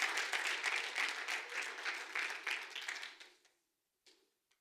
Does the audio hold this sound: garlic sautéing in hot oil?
no